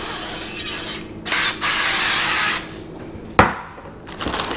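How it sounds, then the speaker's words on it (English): Avocado oil sprayed from a can onto a broiling tray for beef jerky in a Ninja Foodi 10-in-1 XL air fryer oven: two sustained hissing bursts, close and moderately loud, followed by a sharp clatter and soft rubbing sounds. "Spray a little bit of avocado oil on there."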